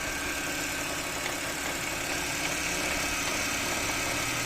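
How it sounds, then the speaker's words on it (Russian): A BMW X3 E83 idles with a steady low engine rumble that comes from a crunching power steering pump, a continuous close-up drone lasting throughout with no talk. "откуда этот рокот от двигателя"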